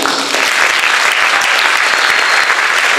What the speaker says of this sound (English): can we have a round of applause for all the teachers?